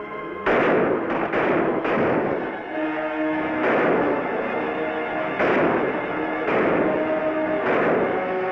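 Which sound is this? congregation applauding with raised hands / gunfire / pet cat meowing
gunfire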